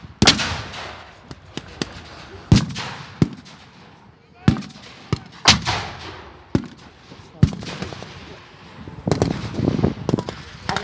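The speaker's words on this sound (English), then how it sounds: "An Allied 25-pounder has been brought into play, aiming to take out the Stuck." Allied 25-pounder artillery gun at a WWII battle reenactment, a series of loud sharp booming shots at irregular intervals amid scattered gunfire and crackling, with voices faintly in the background.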